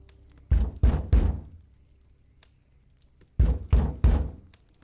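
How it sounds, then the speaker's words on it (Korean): Slow, heavy knocking on a front door: a group of three loud knocks, a pause, then another three, each a solid thud, with no voices. "현관문을 두드리는 소리에 거실을 감싸던 팽팽한 긴장감이 한 방에 깨져버렸어"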